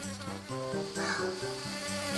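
A cartoon bee buzzes in a French children's animated episode, a steady insect drone over a bouncy musical backing that pulses in regular phrases.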